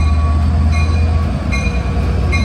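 An LIRR commuter train rumbles loudly and continuously through Mineola station at evening rush hour, with heavy low drone and a few brief wheel squeals rising over it.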